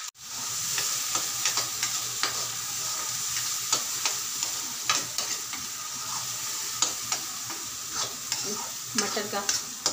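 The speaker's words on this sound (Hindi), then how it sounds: "फिर उसी आलू भून के उसी में मटर को भी भून लेंगे साथ में" Potatoes and peas sizzle steadily in a hot pan, with frequent scraping stirs and clinks of a utensil throughout.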